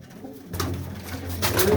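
A pigeon with broad wings coos close by at a fair, a few soft low calls rising over steady outdoor background noise.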